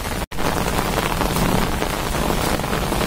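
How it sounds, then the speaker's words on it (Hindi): Steady, dense downpour of heavy rain hissing continuously over rural fields in Himachal Pradesh, loud and close, with no voices. "तो बारिश काफ़ी ज़ोरों शोरों से चली हुई है"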